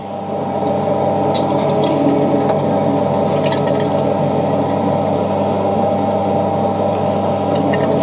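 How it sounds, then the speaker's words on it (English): A meat mincer grinding fresh pork neck: a loud, steady motor hum with a constant droning tone running without a break, close up and alone. "Put it through the mincer, nice fresh pork neck"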